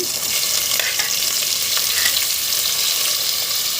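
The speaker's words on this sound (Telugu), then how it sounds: "ఇప్పుడు కట్ చేసిన ఒక మూడు టమోటాలని వేసుకోండి" Chopped tomatoes frying in ginger garlic paste for a cauliflower and green pea curry, a loud steady sizzle with some stirring, close up and with no talking.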